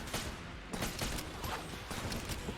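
Rapid bursts of Solar Flare gunfire with small explosion effects in the video game Enter the Gungeon, a dense, continuous barrage of loud shots that pop steadily throughout.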